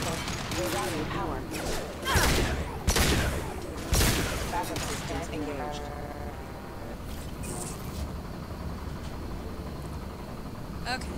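Gunfire in the Mass Effect 2 video game, with several loud bursts of shots standing out early on over busy game sound and music, then fading into a steady background of sound effects.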